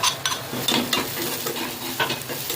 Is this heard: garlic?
yes